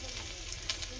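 Ginger and garlic sizzle in very hot oil in a wok for chicken momos, a steady close frying hiss with a few brief crackles and no voices.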